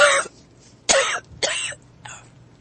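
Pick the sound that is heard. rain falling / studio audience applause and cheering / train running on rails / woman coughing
woman coughing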